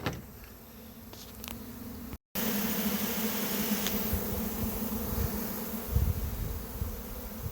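A captured swarm of bees, roughly six to seven pounds of them, buzzes inside a lidded bucket, a dense continuous hum that is loud and close, broken only by a brief silent gap.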